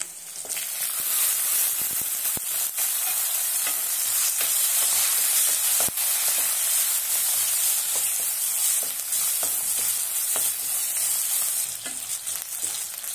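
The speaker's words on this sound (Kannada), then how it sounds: "ಈರುಳ್ಳಿ ಚೆನ್ನಾಗಿ ಫ್ರೈ ಆಗಿದೆ" Sliced onion, crushed garlic and curry leaves frying in hot oil for an Andhra-style okra sambar, giving a loud, steady sizzle close by, with occasional sharp scrapes and taps of a spoon stirring the pan.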